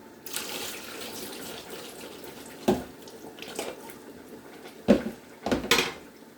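Tap water runs steadily over spaghetti being rinsed in a kitchen sink, with a few louder splashes and knocks as the pasta is moved under the stream.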